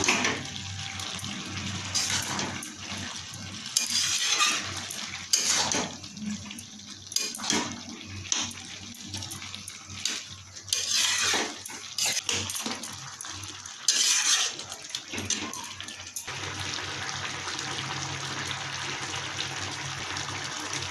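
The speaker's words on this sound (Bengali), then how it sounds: "মশলাটাকে ভালো করে নেড়ে দেবো" A spoon stirs a watery spice mixture for a winter chutney of bottle gourd and sour spinach in a pan, with repeated scraping, sloshing bursts coming in irregular strokes close by over a constant simmering hiss.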